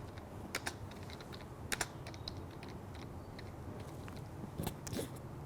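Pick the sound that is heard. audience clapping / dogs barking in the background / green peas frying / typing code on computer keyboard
typing code on computer keyboard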